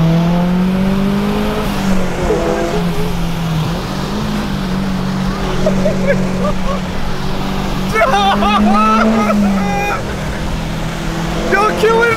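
A two-door Subaru WRX STI engine rumbles and roars in a steady drone that rises and falls with revs, heard from inside the car while people talk over it.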